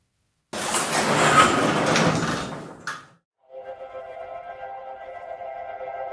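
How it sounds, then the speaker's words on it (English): A heavy outpost door slides open with a long, loud scraping rush, ending in a sharp clunk, followed by a steady humming tone. "Just push the damn door open."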